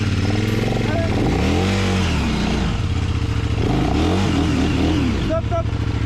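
A vehicle stuck in snow with its engine revved at full throttle, loud, close and sustained, the pitch swelling and falling in repeated surges while people talk over it.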